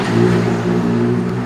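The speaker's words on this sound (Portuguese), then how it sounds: "tá passando uma moto" A motorcycle passes close on a street in Ouro Preto, its loud, steady engine drone holding throughout with a slight swell, alone with no talk.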